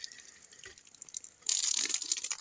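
Water spraying and splashing from a homemade hand-operated PVC hydraulic pump, a low trickle that abruptly swells into a louder, hissing gush about halfway through.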